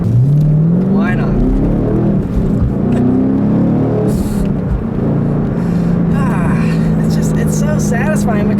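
A 2014 Chevrolet Camaro Z/28 engine revs and drones steadily, its pitch climbing and falling under continuous close-up talk from someone inside the car.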